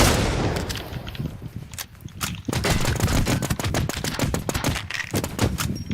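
Rapid gunfire in a shooter video game, a dense string of sharp, close shots that fire in quick bursts and volleys and keep going through most of the stretch.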